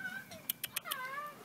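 A cat meows several times in a parked golf cart outside a Walmart, drawn-out tonal calls with a few short sharp clicks between them, fairly faint and close.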